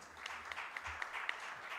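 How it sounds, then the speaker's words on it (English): Scattered audience applause at a national e-payments strategy validation workshop, a few distinct claps standing out over a faint, thin wash of clapping in a quiet room. "Another round of applause for Genesis."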